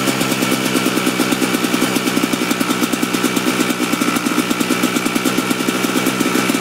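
A Kawasaki KDX dirt bike idles close by with its headlight switched on, a steady, fast, buzzy two-stroke putter that stays even throughout.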